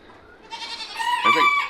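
A bleating call from a young bottle-raised sheep on a small farm, a single wavering cry rising over about a second, close and moderately loud, with faint background noise before it.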